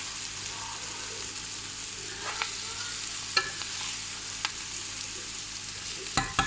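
Mixed vegetables being stir-fried in a pan for coconut fried rice: a steady soft sizzle with a few sharp scraping clicks of the utensil, the last ones near the end louder, and no talking.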